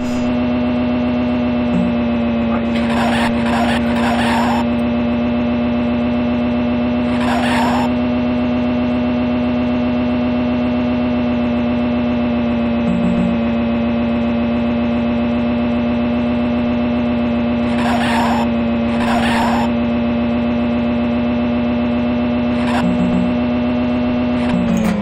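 A Lotus Esprit Turbo car engine in the Amiga racing game Lotus Esprit Turbo Challenge drones loudly and steadily at near-constant pitch, with brief bursts of crunchy noise breaking in a few times.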